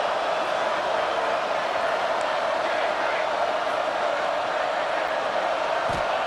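A stadium crowd roars as a steady, dense wash of noise on a 4th down in EA Sports College Football 26, loud and unbroken throughout, with a commentator's voice faintly over it.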